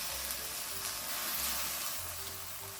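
Garlic scapes stir-fried over high heat in a pan with chili powder, giving a steady faint sizzle and hiss with soft stirring, no voices.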